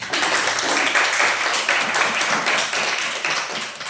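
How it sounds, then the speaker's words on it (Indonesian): Students in a classroom clap together in a steady, dense round of applause, close and loud, continuing for about four seconds and easing slightly at the end, with no talk. "Tepuk tangan dulu ya."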